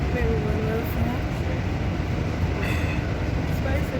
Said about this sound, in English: It's my second time on a train.